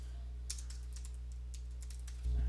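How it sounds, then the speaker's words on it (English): Computer keyboard typing, a short run of light quick keystrokes tapping close by over a low steady hum, ending in a slightly louder thump. "I'm going to type reference documents"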